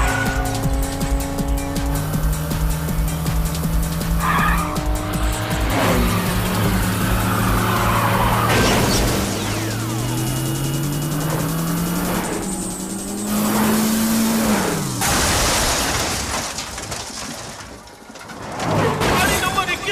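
Race car number 21 in a staged movie crash, engines revving loud and continuous with tires squealing, a long rising skid whine, then an abrupt impact and clatter near the end, all dense and close.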